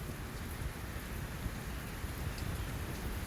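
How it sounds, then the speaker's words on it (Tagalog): Steady rain pattering on a roof thatched with coconut leaves, a soft, even hiss with no voices. "Wala na yung ulan. Konti na lang."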